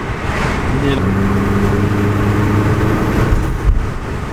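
A 2014 Chevy Cruze RS with a cold air intake accelerates gently with both windows open, its engine a rising low drone amid wind rush and road noise, heard from inside the car.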